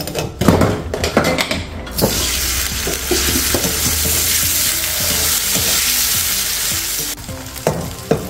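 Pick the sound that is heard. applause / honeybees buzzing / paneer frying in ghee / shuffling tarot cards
paneer frying in ghee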